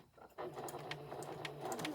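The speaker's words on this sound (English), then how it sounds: "back stitching." A sewing machine back stitching a 1/4 inch seam on a memory bear, running steadily at close range beneath a speaking voice.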